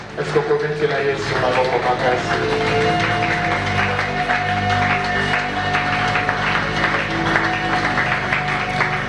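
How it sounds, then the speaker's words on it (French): Church congregation applauding and cheering for the Lord during a worship service, dense clapping and crowd noise filling the space continuously at a loud level, with a sustained tone running beneath. "Est-ce que tu peux acclamer le Seigneur?"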